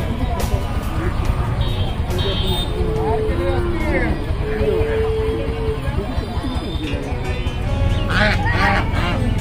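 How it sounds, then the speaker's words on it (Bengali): Native raja hans ducks honk repeatedly in short, nasal calls at the Animals Resources Fair 2023 in Gazipur, close by amid a busy crowd, with people talking throughout. "এগুলো কি দেশি রাজা হাঁস না?"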